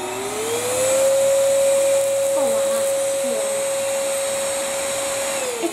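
A BlitzWolf BW-AR182 cordless handheld vacuum cleaner whirs up to a steady, loud motor whine that holds for several seconds and then winds down, with faint voices in the background.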